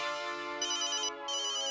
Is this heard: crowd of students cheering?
no